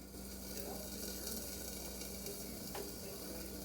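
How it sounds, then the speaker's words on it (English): Vegan Follow Your Heart smoked Gouda cheese melts in a pan with a steady, faint sizzle and crackle throughout, heard alone at low level. "That's the cheese melting in the pan."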